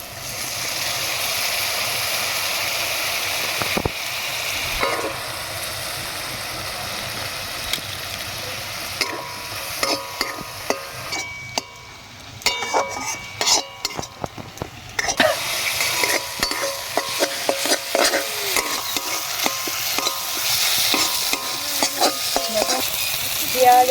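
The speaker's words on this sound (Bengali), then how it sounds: "পেঁয়াজ আদা রসুন সব ভাজা ভাজা হয়ে গেছে" Onion frying with ginger-garlic paste in oil, a continuous close sizzle with repeated scraping and knocking of a spoon against the pan, the stirring growing busier partway through.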